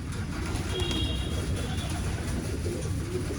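Pigeons in a loft, a low continuous murmur of cooing under dense background rumble with no clear separate calls.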